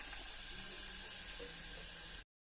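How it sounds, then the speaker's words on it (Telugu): Garlic paste sizzles in hot oil with a steady, faint hiss that holds evenly, then cuts off abruptly near the end. "ఆయిల్ వేడెక్కిన తర్వాత వెల్లుల్లి పేస్ట్ వేసుకోవాలి."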